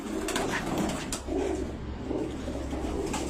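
Rooftop pigeons coo softly in soft repeated low throaty calls, close by, against a steady background hum.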